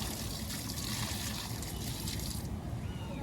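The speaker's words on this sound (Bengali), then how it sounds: "আমি সব গাছ করে জল দিয়ে দিচ্ছি অল্প অল্প করে" Water trickles and splashes steadily onto potted garden plants, a continuous close hiss of pouring liquid that eases slightly near the end.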